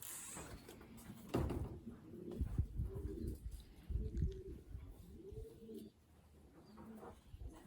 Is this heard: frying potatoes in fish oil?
no